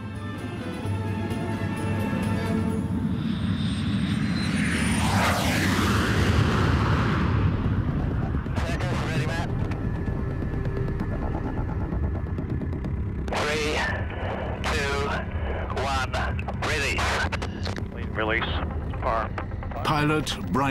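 A rocket motor on a space plane ignites after release from its carrier aircraft at high altitude, a loud sustained roar that swells and then continues under radio chatter and excited voices.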